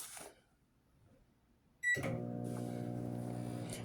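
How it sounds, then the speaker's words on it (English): A microwave oven cooking scrambled eggs starts with a click and then holds a steady, low, droning hum. It sounds close and fairly quiet, and a brief bit of activity comes just before. "What kind of microwave is that?"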